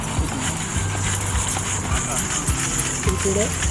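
Horse hooves clip-clop in repeated strikes at a breeder's stable, heard alongside ongoing voices and a steady background hum.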